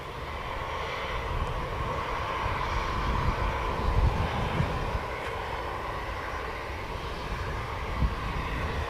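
An Ethiopian airliner jet taxis toward the foot of the runway at Manchester Airport, its engines giving a steady, broad, distant roar that holds level throughout.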